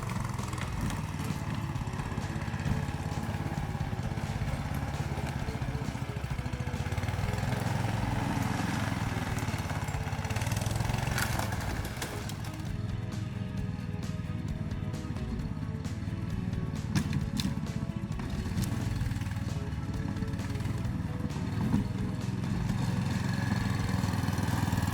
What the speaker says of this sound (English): Tundra is a big Motorsled, but we are cutting our way right through the wild forest.